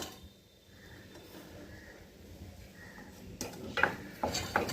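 Cooked channa and potatoes being mixed in a metal pot, soft quiet stirring that builds into a few clinking scrapes of a spoon against the pan near the end.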